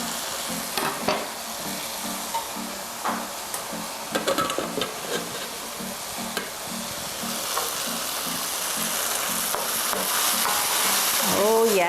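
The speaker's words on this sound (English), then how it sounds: "We'll just let the mushrooms cook down the rest of the way." Mushrooms cook down in olive oil over medium heat, giving a continuous frying sizzle with irregular crackles and utensil scrapes, steady and close throughout and swelling slightly louder toward the end; a voice speaks briefly now and then.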